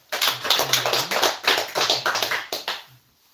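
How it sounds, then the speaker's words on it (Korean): A church congregation at a Sunday worship service claps together as a blessing for one another, with a dense, rhythmic burst of many hands that is close and steady for about three seconds and then stops. "우리 서로를 위해서 축복의 박수 한번 할까요?"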